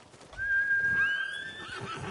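A horse in the video game Ghost of Tsushima lets out a single clear whinny, a high trembling neigh with a falling tail lasting over a second, heard close and alone.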